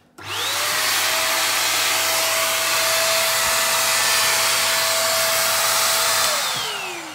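Vytronix CSU600 vacuum cleaner switched on, a sharp start-up whine rising into a steady loud motor roar held for about six seconds, then winding down as it is switched off.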